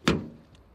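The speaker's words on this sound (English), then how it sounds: "Very light, and you can sort of hear the way they open." A light Citroën C1 door, a 2016 Mark II 1.0 Flair Automatic, opens with one quick close thunk followed by a faint short rattle.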